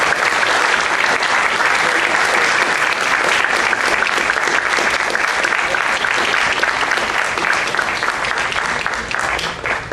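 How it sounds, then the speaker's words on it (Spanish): An audience gives loud, sustained applause for panelists at a discussion event, dense clapping throughout that eases slightly at the very end. "un fuerte aplauso a nuestros panelistas."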